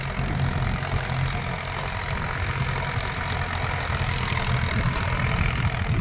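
Mahindra 265 Power Plus tractor, a 39 HP model, running its diesel engine while hauling soil up a slope, a loud, steady rumbling chug close by with no talk over it.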